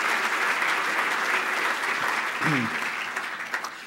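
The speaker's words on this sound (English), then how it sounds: "Let's give a round of applause to all our attendees." An audience at a county presentation event applauds, a dense, even clapping from a roomful of people that stays steady for several seconds before tapering slightly.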